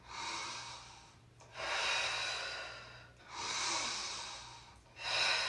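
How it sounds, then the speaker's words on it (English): Two big, deep breaths during a vinyasa yoga class, each a long, airy inhale and exhale, steady and close against a quiet room with no talking. "2 big breaths."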